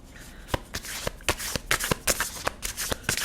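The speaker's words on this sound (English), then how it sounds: "Let's draw some cards." A deck of tarot cards being shuffled nearby, a run of crisp riffling flutters and sharp card snaps landing in an uneven rhythm across the whole stretch, with no voices.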